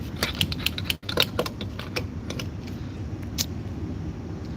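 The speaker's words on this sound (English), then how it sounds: "I grabbed the car key." Car keys jangle in a string of light metallic clinks near a gas pump, several quick bursts spread over a steady low outdoor rumble.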